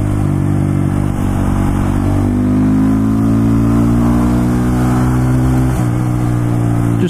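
A Honda MSX Grom 125 motorcycle engine drones loudly and close during a test ride, its pitch climbing steadily as it accelerates through a gear, then dipping briefly near the end.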